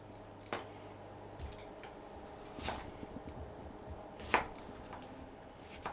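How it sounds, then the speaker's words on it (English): A knife slices a red onion on a cutting board in a home kitchen, giving a few sparse, separate chopping taps at irregular intervals, faint and close over a quiet background hum, with no talking. "And while the oil's heating up, peel and slice your onion."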